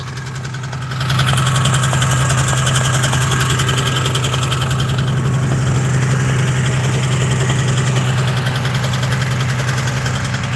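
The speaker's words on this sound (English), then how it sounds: "It's a smaller engine than the 503. It's a 377." A small Rotax 377 two-stroke engine starts up and runs at a steady, loud idle, a continuous droning buzz with a strong low hum, close by and without talk.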